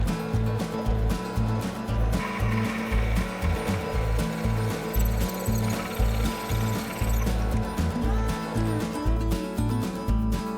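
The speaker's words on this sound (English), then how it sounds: "So the first thing we need to do is counterbore the shaft with a 12mm hole" A metal lathe counterbores a 12mm hole into a shaft, its steady mechanical whirring, clicking and rhythmic rattling running loud and continuous throughout with no talk.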